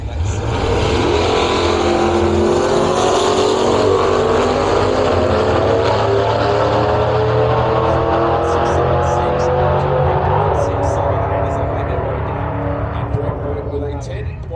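Drag racing cars roar down the lanes in a loud, continuous engine drone with rising pitch as they accelerate, while a commentator talks over the noise throughout.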